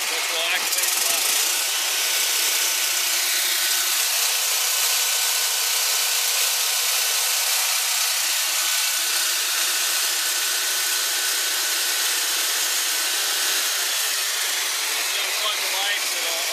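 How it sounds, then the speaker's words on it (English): Fire truck generator running at full speed, a steady loud mechanical drone with a broad hiss that holds unbroken throughout, without speech. "The generator will kick up to its speed, which will activate the lock."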